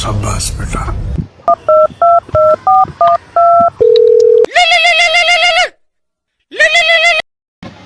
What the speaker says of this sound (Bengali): তাইলে হুজুর দাঁড়ান, ওরে একটা ফোন দেই